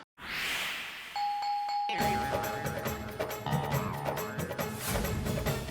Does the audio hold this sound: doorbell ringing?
yes